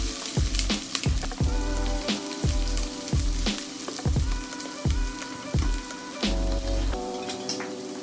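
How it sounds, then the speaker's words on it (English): Freshly chopped onion sizzling in hot oil in a pan while being stirred, a steady close crackle with a series of rhythmic scraping strokes roughly every half second. "we're going to add in our freshly chopped onion. And we're going to just stir with the oil to coat"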